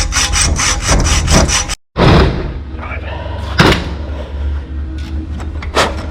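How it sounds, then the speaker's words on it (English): A motorbike gear-change part being cut with a hand saw to widen a gap, loud rhythmic rasping back-and-forth strokes, a short pause, then more uneven sawing and scraping close up. "He's gonna hack a bit out so the gap can close"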